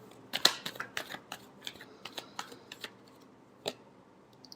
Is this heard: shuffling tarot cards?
yes